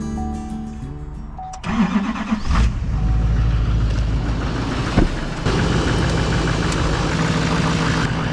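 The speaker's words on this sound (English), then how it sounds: "Let's go see if we can get the truck started." A truck engine cranks briefly, catches and settles into a loud, rough idle that rumbles steadily close by, with a sharp knock partway through.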